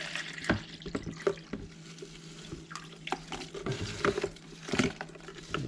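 Green smoothie liquid is poured out of a container, giving a faint wet splashing and trickling with scattered drips and clinks in a quiet indoor space.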